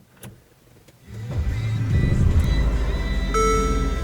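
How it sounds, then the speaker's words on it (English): A Mercedes CLA250 starting up, a few faint clicks, then the starter catches and the engine flares into a rising idle that settles into a steady hum, close and fairly loud. "So let's start her up."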